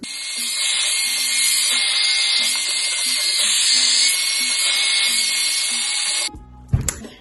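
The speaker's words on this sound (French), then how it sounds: "Je vais sécher les cheveux et puis on se retrouve" A hair dryer blowing on hair gives a steady, loud whirring rush for about six seconds, then cuts off, followed by a brief clatter of handling.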